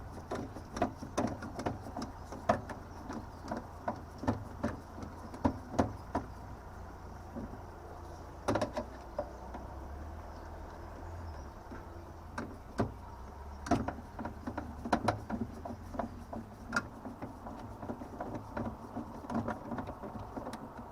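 A screw being tightened on the diverter of a Vaillant EcoTec Pro boiler during a pump body change; faint, close clicks and scraping taps repeat irregularly over a low background hum, with no talking.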